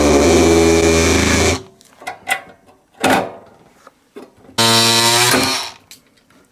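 A power tool trimming a speaker to fit a Milwaukee mini tool box, loud motor whines in two bursts of about a second each, separated by quieter clicks and scraping handling sounds.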